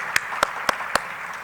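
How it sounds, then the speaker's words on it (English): A few clear, evenly spaced hand claps ring out at a community convening, four distinct strokes in quick succession over a low room hum, then quiet. "How about another round of applause for her?"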